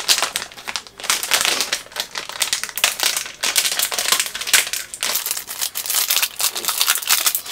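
A box of chocolate almond Pepero is opened close up, filling the moment with continuous loud crinkling and crackling of cardboard and plastic wrapper, with brief tearing bursts and no speech.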